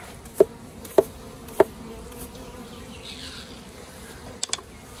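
Honeybees buzz around an opened hive during a natural beekeeping inspection, a faint steady hum broken by a few sharp clicks from handling the hive.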